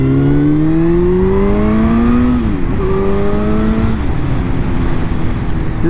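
A powerful motorbike engine of about 200 horsepower revs loud and close, its pitch climbing steadily through the gears with brief dips at each shift.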